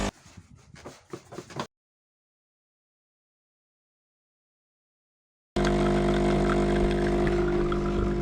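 A new home coffee machine runs inside a camper van, a loud steady mechanical hum with pump-like whir that starts abruptly after a short stretch of talk and a silent gap.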